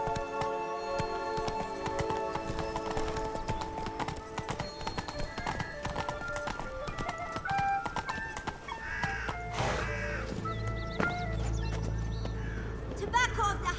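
Horse hooves clip-clop at a steady gallop in The Witcher 3 video game, with a whinny, layered over busy game music and ambient effects, loud and continuous throughout.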